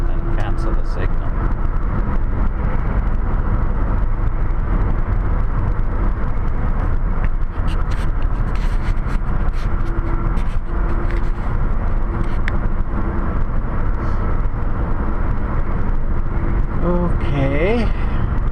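Car interior at highway speed, around 100, with a loud steady road and engine drone throughout, a few faint clicks, and a person talking over it.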